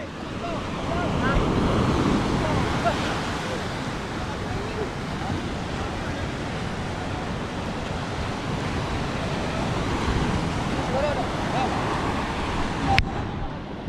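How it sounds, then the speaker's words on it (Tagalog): Loud, continuous ocean surf churns and crashes amid strong wind noise on the microphone, a steady roaring wash throughout. "Grabe ang lalaki ng alon."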